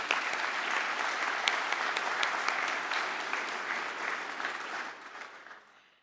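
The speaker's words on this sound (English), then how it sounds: "Give our finalists a big round of applause." Award ceremony audience applauding the finalists, a broad, even wash of clapping from a large crowd that sustains for about five seconds, then tapers away.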